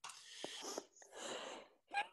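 A single close, breathy sneeze during an online French-language presentation, with short wheezy inhalations and a sharp burst, then a brief rustle afterward.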